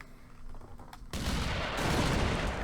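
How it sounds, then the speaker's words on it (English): A shotgun blast in the side-scrolling action game Broforce, a sudden loud burst cutting in after a quiet second, followed by a sustained roaring rumble of debris and explosion. "Your shotgun blast is capable of digging both up and down"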